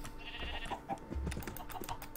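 Sheep in a Minecraft modpack give a few short, faint bleats amid soft clicking, close and quiet with no talking.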